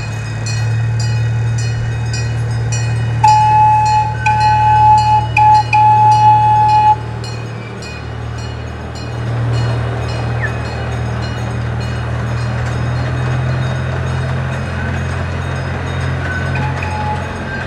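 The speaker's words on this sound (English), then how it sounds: "Everybody loves a choo-choo train." A train rolls past at City Park in New Orleans with a steady, loud low rumble and rattling cars. Light metallic clinks and a brief high whistle-like tone ride over the rumble, which eases slightly midway and then continues.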